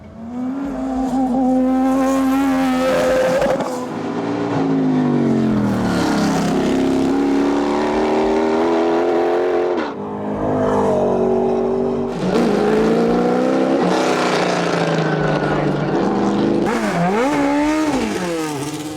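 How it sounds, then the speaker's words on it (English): McLaren cars race up the hill at the Goodwood Festival of Speed, with loud, continuous engine roar that rises and falls in pitch through repeated gear changes across the whole stretch. "many other McLarens racing up the hill"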